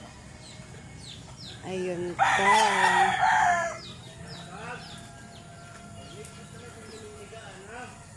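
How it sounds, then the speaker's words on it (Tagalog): Fighting cocks kept for cockfighting crow loudly once at close range amid scattered clucks, with other birds chirping in the background and a person talking briefly. "Ayan, ang mga manok."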